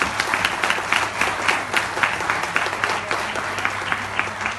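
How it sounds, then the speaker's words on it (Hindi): A large audience at a Vestige marketing motivational event applauds loudly, dense steady clapping sustained throughout with a faint constant hum underneath and no talking. "मैं चाहता हूं जोरदार हमारी ग्रेट अपलाइन के लिए ताली।"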